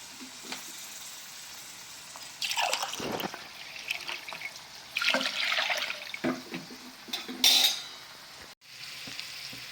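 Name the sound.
water poured into pot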